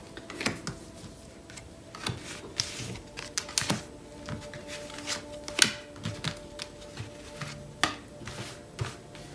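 Tarot cards shuffled and drawn from a deck, a series of soft, close, irregular papery taps and flicks with no voices.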